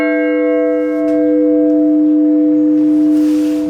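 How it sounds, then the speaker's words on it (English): A church bell in the tower of Pellon Christ Church, Halifax, struck by an Ellacombe chiming hammer, ringing with one loud, sustained, humming tone that slowly decays close by. "that's the ellicombe chiming hammer that hits them"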